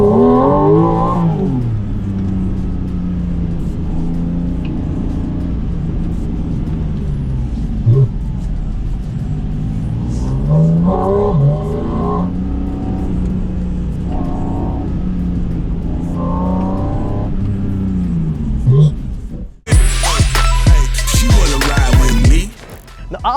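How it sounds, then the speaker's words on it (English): Porsche GT3 RS engine on a track, heard from the cabin, its loud sustained tone rising and dropping repeatedly through gear changes, ending in a sharp burst of harsh noise. "the guttural sound of the engine right behind my shoulder, screaming like a fanatic animal"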